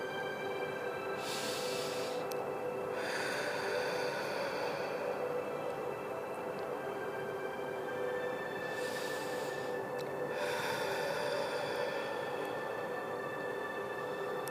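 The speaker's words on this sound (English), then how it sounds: "join me with a couple of deep breaths in and out" Slow, deep breaths drawn in and let out during a calm meditation beside a Buddha statue, broad airy swells rising and falling twice over a steady background hum, no talking.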